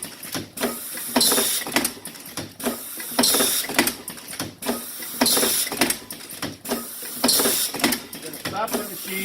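Hot stamping machine running foil ribbon through its cycle, with a steady repeating rhythm of mechanical thumps and whirring strokes roughly once per second, close and fairly loud.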